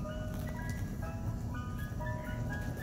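Tinny ice cream truck jingle playing steadily in a street, its repeating melody carried over a low rumble of traffic and engine noise, with no talking.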